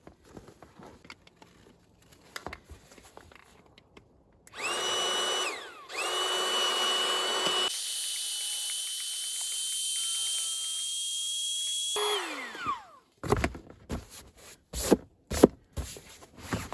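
A small electric pump inflating a sleeping pad during winter car camping with a Subaru Outback: a steady whirring drone that shifts pitch partway through, then winds down, bracketed by handling clatter.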